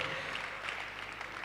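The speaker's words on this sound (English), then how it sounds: "Please keep the applause going" An audience at a University of Abuja event keeps up its applause, a dense steady clapping at moderate level from a crowd in a hall.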